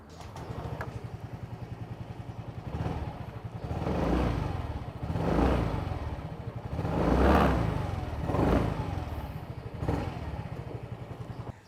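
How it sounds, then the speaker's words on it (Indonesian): A Yamaha Fazzio 125cc scooter engine idles steadily close by, with a low, even hum that swells several times as the throttle is blipped, and no talk over it. "Nih kita nyalain dulu ya suara mesinnya ya."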